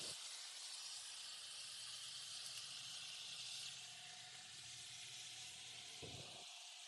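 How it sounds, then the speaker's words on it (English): Philly cheesesteak meat sizzles on a hot griddle, a steady, faint hiss and crackle with a low hum running under it. "Look at that sizzle."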